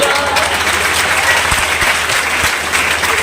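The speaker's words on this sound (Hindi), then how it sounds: "ऐसा मुझे हाथ हवा में उठा के ताली बजा दिया।" Audience at a Hindi poetry recitation gathering in Udaipur bursts into loud, sustained clapping with hands raised, a dense wash of claps throughout with a few sharper individual claps standing out.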